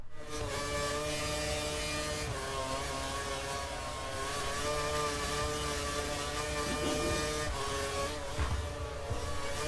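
Race car engines in a racing video game, a sustained high whine of several cars flat out on a long straight, steady and loud with pitch shifting slightly as they pass.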